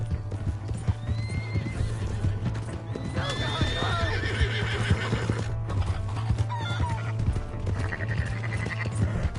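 Horse in a PS4 video game, repeated whinnies and neighs over steady clip-clop hoofbeats, with raised voices and game sound underneath.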